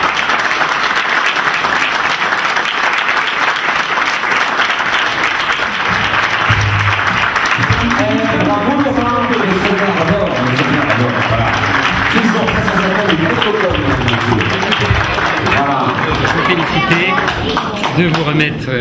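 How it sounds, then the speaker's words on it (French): Applause from an audience at a sports medal ceremony. Broadband clapping fills the first half, then fades beneath a person speaking and background music. "Est-ce qu'on les applaudirait pas un coup pour les gens?"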